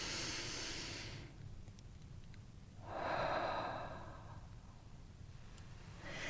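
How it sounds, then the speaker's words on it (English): A person breathes in slowly during a guided meditation, a soft airy inhale building then easing off, close and quiet with no talking. "And I invite you to take a breath."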